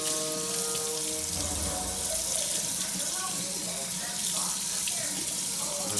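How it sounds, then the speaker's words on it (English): Cold tap water runs steadily over cured pork belly in a sink, a continuous splashing rush that stays even and close for the whole stretch, with no voices. "Put on the cold water."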